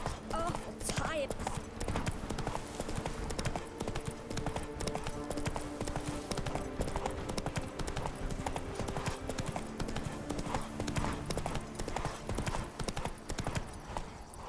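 The horse Roach from The Witcher 3 gallops with a fast, rhythmic clip-clop of hooves that continues steadily throughout, close and prominent, while a voice speaks over it.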